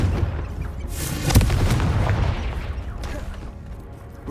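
A Confringo fire spell bursts in Hogwarts Legacy, a loud, close booming blast that swells to one sharp peak and then rumbles away over a few seconds.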